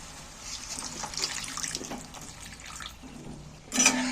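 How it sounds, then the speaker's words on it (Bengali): Water is poured from a tap or jug into a pan of potatoes that were cooked down in a spice masala. The pour is a quiet, steady splashing that runs for a few seconds, with a brief louder splash near the end. "এইবার আমি ফের জল দিয়ে দিচ্ছি"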